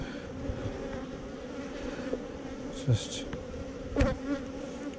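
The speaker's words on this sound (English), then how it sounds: "bees everywhere, lapping up syrup" Honey bees buzzing steadily around a syrup feeder, a dense close hum with a few sharp knocks and a brief spoken word.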